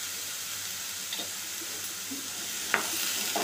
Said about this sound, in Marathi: बटाट्याला मसाला चांगला कोट करून घ्यायचा।